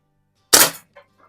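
A single sharp crack from a Diana Chaser air pistol fired in a garage, followed by a faint metallic tick from a struck paddle target.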